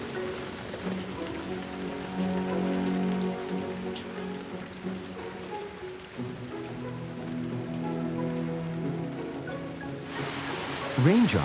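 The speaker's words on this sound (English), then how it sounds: "The rain comes suddenly." Rain patters steadily over a low, droning background, a continuous wet hiss that swells slightly and picks up near the end.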